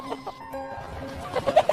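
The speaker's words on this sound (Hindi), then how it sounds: "अचानक घड़े से 100 मुर्गियाँ पंख फड़फड़ाते बाहर आने लगी।" Chickens cluck and chirp in a short, busy burst, several birds sounding close together with brief louder squawks toward the end; wing flapping is not clearly distinct.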